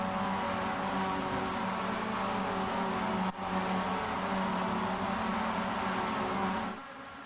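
Mazda MX-5 race cars run wheel to wheel down the straights at VIR, a steady droning engine note held at constant volume, with a brief dip midway and a fade at the end.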